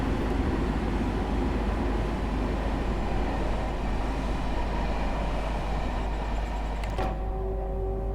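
Simulated commuter train in Train Sim World 2, a New Haven M8 electric multiple unit setting, passing with a steady loud rumble and rail roar throughout, ending with a brief clatter and tonal whine.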